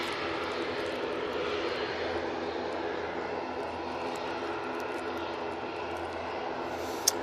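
Ryanair Boeing 737 Max jet engines roar steadily at Manchester Airport, a broad, constant rumble with a brief sharp click near the end.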